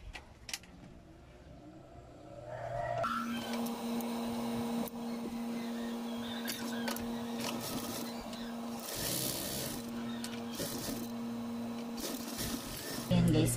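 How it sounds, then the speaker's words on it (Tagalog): A sewing machine stitching the two side seams of a child's dress starts up after a quiet moment, a steady whirring drone with brief pauses, heard under someone talking. "Tahiin muna natin siya dito sa dalawang gilid na."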